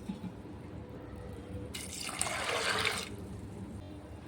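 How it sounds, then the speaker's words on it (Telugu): Water is poured into a pressure cooker in a kitchen, a short close rushing gush lasting just over a second, set against quiet background noise with no speech. "ఇలా కుక్కర్లోకి వేసుకున్న తర్వాత ఇందులో వాటర్ పోసుకోవాలి"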